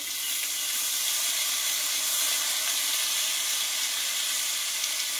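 Strained chana dal going into a pan of hot oil with turmeric powder and salt, producing a loud, steady, close sizzle that holds evenly throughout without a break.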